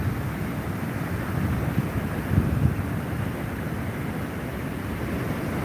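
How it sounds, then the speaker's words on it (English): Ocean swell from recent storms and cold fronts breaks steadily on the coast under a long onshore wind, a continuous broadband wash of surf and gusting air with a slight swell in the middle and no voices. "The ocean is pulsing swell in from some storms and cold fronts that have swept off the coast recently."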